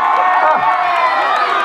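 A loud crowd cheers and shouts, with whoops and excited voices, as an audience cheers for a female singer at a band's Eid show in Tabora.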